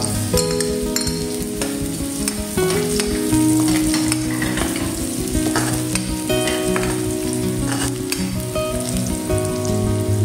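Garlic, added after ginger, fries in hot oil in a pan, producing a loud, dense, continuous sizzle with busy crackling and stirring noises close up, with no voices.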